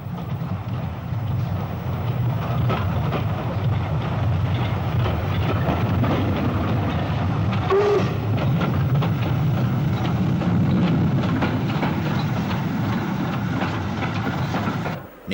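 Two LMS 8F steam locomotives roll off Stockport Viaduct, giving a steady low rumble and rhythmic chuffing that holds loud and continuous throughout, with some wind buffeting.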